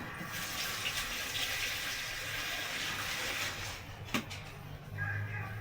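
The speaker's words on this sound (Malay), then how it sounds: "So, kita masukkan air." Water pours steadily into a cooking pot to boil ketupat rice cakes for Hari Raya, a continuous close splashing hiss with a brief knock near the end.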